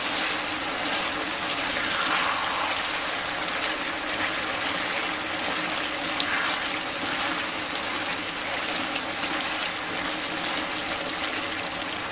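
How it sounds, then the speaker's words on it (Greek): Meat frying in hot oil in a pan, a steady broadband sizzle and crackle that stays even and fairly quiet for the whole stretch, with no talking. "ακούγεται ο ήχος ότι άρχισε να τηγανίζεται"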